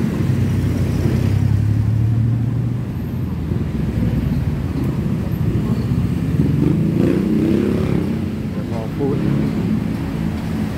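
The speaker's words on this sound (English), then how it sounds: "There's a tuk-tuk right here." A tuk-tuk engine putters and revs in a busy Bangkok street near Stadium One in Thailand. The engine sits fairly close amid traffic rumble and indistinct voices, and its loudness rises and falls.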